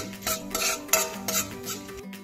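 Urad dal roasting in a pan, with a spoon or spatula scraping and clinking against the metal in irregular strokes, close and fairly loud, with no talking.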